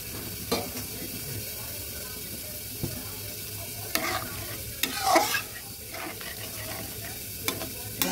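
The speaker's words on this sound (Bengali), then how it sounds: "এবার দিয়ে দেবো জলটা গরম জল দিচ্ছি" Hot water poured into a pan of fried spice paste and nearly cooked potatoes for Bengali koi fish curry: a low sizzle with spoon clinks, then a short gush and bubbling hiss of liquid hitting the hot pan.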